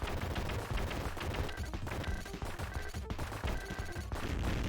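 Continuous booming blasts and rapid gunfire from the action game Contra Hard Corps pound on without pause, loud and dense, with no voice over the clatter.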